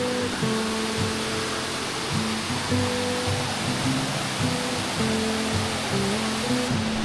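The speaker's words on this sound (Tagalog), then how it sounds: "Maingay lang pero ang ganda ng agos ng tubig." Waterfall at Waterfall Gully in Adelaide rushes in a loud, steady roar that fills the whole clip, with a faint low tonal hum running beneath the constant wash of falling water.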